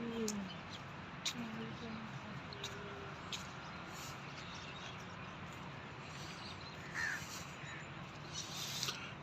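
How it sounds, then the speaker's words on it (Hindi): Crows cawing in a park, scattered calls rising now and then over a steady background hum of wind and distant traffic. "कौवे और"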